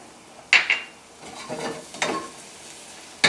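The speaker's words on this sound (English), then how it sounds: "I have some shallots. Put some shallots in here." Shallots drop into a hot pan for a linguine with clam sauce, with a few clattering knocks of utensil on pan followed by soft bursts of sizzling and stirring at close range.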